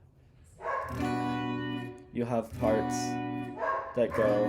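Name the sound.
dogs barking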